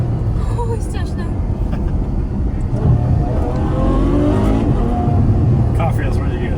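A Ferrari F12 supercar's V12 engine drones steadily while driving, loud and continuous with rising revs toward the end, someone talking over it.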